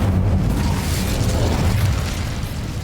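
An Incendio fire spell goes off in the Hogwarts Legacy video game. It sounds like a loud, rumbling burst of flame that roars steadily for a few seconds.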